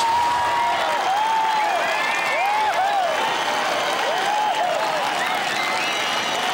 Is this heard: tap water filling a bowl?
no